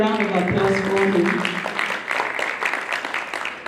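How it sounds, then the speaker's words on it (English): Audience applause in a hall at the WEOG 5th anniversary event at OTC 2023, for an NNPC board member. A voice speaks first, then a steady wash of clapping fills the room and carries on to the end. "Please, a round of applause for him."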